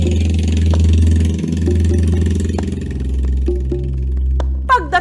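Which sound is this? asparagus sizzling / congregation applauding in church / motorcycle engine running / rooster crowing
motorcycle engine running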